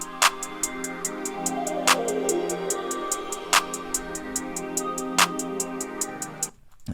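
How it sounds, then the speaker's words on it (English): Hi-hat pattern in a trap-style beat with randomized velocities, a fast two-step rhythm of crisp ticks varying in loudness over a melodic backing and periodic heavier hits, ending abruptly. "now your hi-hat pattern will sound like this"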